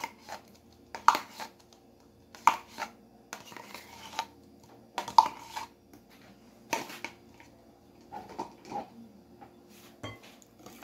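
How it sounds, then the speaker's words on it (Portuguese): Cornmeal cake batter with natural yogurt is mixed by hand in a bowl, heard as sparse, close clinks and scrapes of a utensil against the bowl, spaced irregularly with quiet gaps between. "Agora é só misturar"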